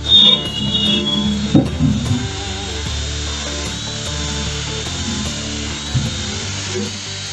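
A power grinder works on the front end of a C10 truck from underneath, giving a steady, loud, whining grind with a high tone held throughout and a few harsher bursts near the start.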